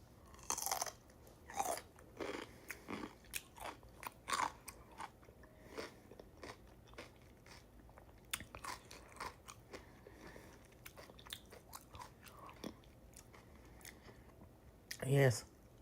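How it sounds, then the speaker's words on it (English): Dill pickles crunched and chewed close up, a run of wet bites and chewing noises spread across the stretch, with a louder crunch near the end; a person speaks briefly between bites. "These are very, very good. I don't know. I like dill pickles."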